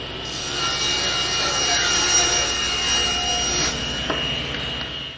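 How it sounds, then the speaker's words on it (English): Table saw ripping strips of wood for the sides of a shop wall storage cabinet tray, a loud sustained whine with a gritty cutting hiss that eases off near the end. "So I'll go ahead and rip some strips for the sides"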